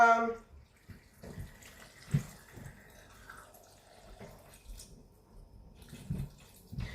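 Water pours into a Thermomix TM6 bowl while a chicken jalfrezi curry is being made, a faint splashing trickle running under a voice.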